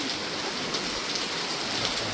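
A downpour roars continuously, thick hissing rain drumming on surfaces at a steady, loud level throughout.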